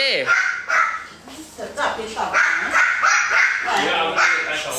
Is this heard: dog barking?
yes